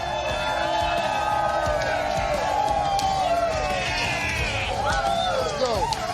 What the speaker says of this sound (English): We got a big crowd here today.